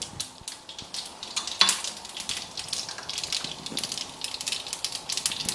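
Mustard seeds and cumin powder hitting hot oil in a pan, a crackling sizzle with sharp pops and brief spoon scrapes against the metal, close and moderately loud throughout.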